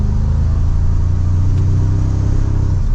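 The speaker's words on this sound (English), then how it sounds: "We'll put it into sport mode and we can give it some gas here." Heard from inside the cabin, a 2024 Toyota Tacoma Trailhunter pickup truck accelerates in sport mode, its engine giving off a steady, loud low rumble with a rising drone and no talking over it.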